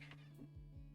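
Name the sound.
cat meowing loudly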